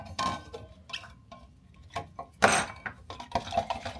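A spoon stirring an electrolyte drink of water, salt and stevia in a glass, giving a series of close, sharp clinks and scrapes in irregular bursts.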